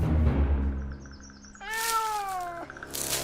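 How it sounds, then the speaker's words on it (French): An animated cartoon cat gives a single clear drawn-out meow, rising then falling, loud and close, following some rumbling and chirpy background effects in a Marvel superhero cartoon scene. "Mate un peu ce matou."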